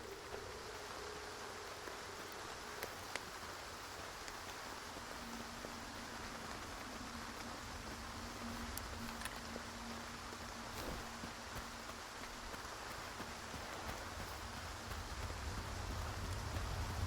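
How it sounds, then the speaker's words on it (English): Soft, even patter of rain drumming on a tin roof in the video game Stalker 2, a faint continuous hiss with occasional sharper ticks. "Sound of rain on the tin roof."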